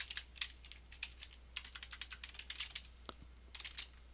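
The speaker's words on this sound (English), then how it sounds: "I'm going to just type some information about start" Fast, uneven typing on a computer keyboard, a run of close, crisp key clicks with brief pauses and one heavier keystroke near the end, heard alone over a faint steady hum.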